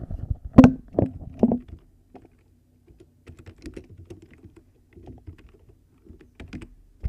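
Keys on a computer keyboard are tapped at close range, with a cluster of louder clacks at the start followed by sparse, soft, irregular taps with quiet gaps.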